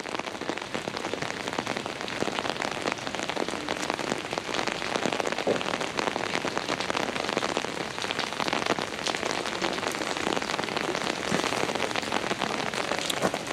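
Steady rain pours down at the Palace of Fine Arts in San Francisco, a dense continuous hiss of drops on surfaces and pavement, constant and fairly loud throughout with no voices.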